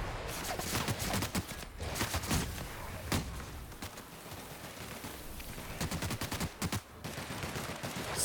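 Video game gunfire: bursts of shots and rapid automatic fire come in irregular clusters across the whole stretch, fairly loud and close, with no talking over them.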